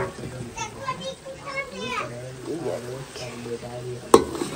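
Chopped turnips go into a pan where peas are already cooking, with stirring and sizzling under close talk and children's voices, and a sharp clatter near the end.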